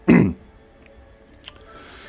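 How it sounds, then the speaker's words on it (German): A single short, throaty cough from someone who has choked, loud and close, followed by quiet room tone with faint small sounds. "Ich muss schon wieder husten."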